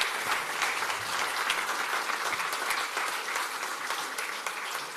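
A conference audience gives a panel sustained, even applause, a dense crowd clapping heard from the hall at moderate loudness.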